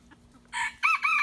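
A chicken lets out a couple of loud, close calls in quick succession over a quiet background, the second burst longer and more tonal than the first.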